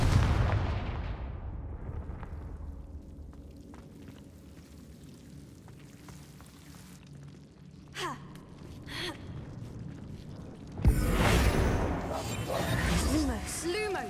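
Confringo spell explosions in the video game Hogwarts Legacy: a loud booming blast that decays slowly, then quieter game effects and a second sudden burst, with gasp-like vocal sounds among them.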